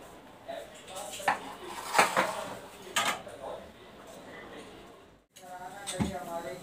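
Dry fennel seeds roasting in a metal pan, with scattered clinks and scrapes of a spoon against the pan at irregular intervals, someone talking over the quiet rattle.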